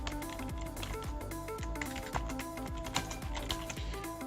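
Rapid, irregular clicking of keys being typed on a computer keyboard, close and steady for several seconds over a tonal background hum.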